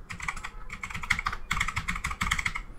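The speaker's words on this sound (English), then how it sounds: "go to search and type Windows features." Quick bursts of close keystrokes on a computer keyboard come in short runs separated by brief pauses, with no one talking.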